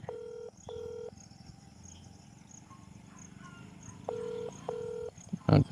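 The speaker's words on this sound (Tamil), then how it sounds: "கால் பண்ணுறேன் ஐஸ்வர்யா அம்மாவுக்கு ரிங் ஆகுது" Phone call being placed: two short boxy dial-tone beeps, a long hush with faint insect-like background hum, then two more ringback beeps and a brief sharp clatter at the end.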